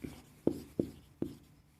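Handwriting numbers during a maths lesson, three short distinct pen or chalk strokes in a quick rhythm, close and faint.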